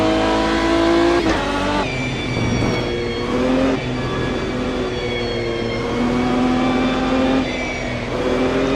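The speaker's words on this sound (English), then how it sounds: "This is the Aston Martin" Aston Martin GT1 race car from 2005 in the video game Automobilista 2, its engine droning loud and steady with repeated revs rising and dropping through gear changes, heard alone.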